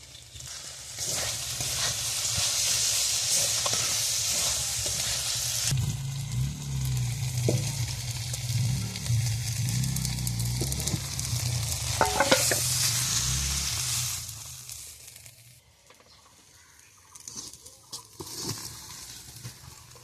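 Potato, eggplant and shrimp fry in mustard oil in a pan, a loud continuous sizzle with scraping stirs that drops away to quieter intermittent clatter near the end.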